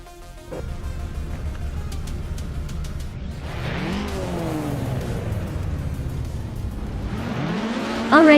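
Vintage race cars, including a 1973 Arc-M F16 ultralight, racing at Sonoma: loud engines roar and rev continuously, with pitch sweeping up as cars accelerate past and a sharp burst near the end.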